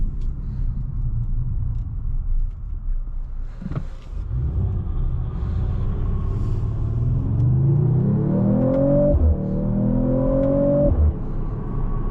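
A 2026 Mercedes-AMG CLE 53 engine rumbles steadily, then revs up with rising pitch through two gear climbs, loud and close, with no talking.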